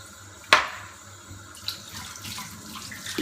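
Tap water runs steadily over celery stalks in a sink, a soft continuous splashing with a sharp clack near the start and a few light knocks, close and fairly quiet.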